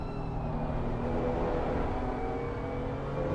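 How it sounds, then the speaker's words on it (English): Steady engine drone of race cars at moderate volume in the video game Assetto Corsa Competizione at Valencia, a continuous whirring hum without clear passes or voices. "Really is remarkable how much quieter these cars are."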